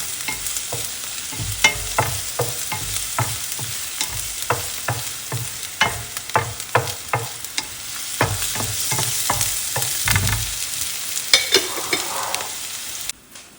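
Cumin and fenugreek seeds roast in a pan for a spice powder, a dry sizzle broken by a rhythmic run of sharp spoon scrapes and stirs, close and alone.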